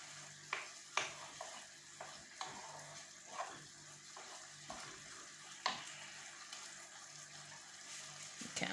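Ginger and garlic fry in a pan for butter chicken, a quiet bubbling sizzle broken by scattered clinks and scrapes of stirring, close by and fairly faint.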